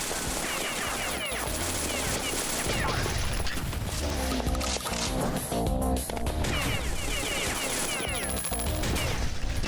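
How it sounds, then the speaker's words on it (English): Shotgun blasts in the shooter game Beyond Citadel, which stars an anime girl with guns. The shots go off amid dense, loud game noise and music, with busy crashing and impacts throughout. "Shotgun!"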